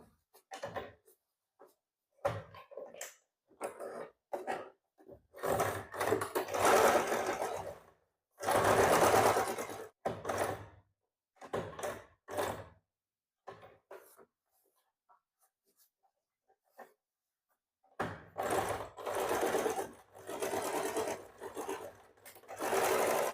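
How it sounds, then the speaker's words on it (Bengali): A sewing machine stitches a baby frock in repeated bursts of whirring, separated by short pauses, close and fairly loud, with brief quiet gaps between runs. "এখান থেকে সেলাই করে একেবারে আমরা এই জায়গাতে নিয়ে আসব"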